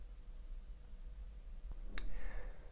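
Two quick computer mouse clicks, one small tick followed a moment later by a sharper click, faint against a low background hum with no speech.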